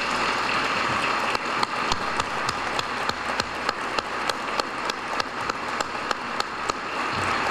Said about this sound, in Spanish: les pido nos unamos en un fuerte aplauso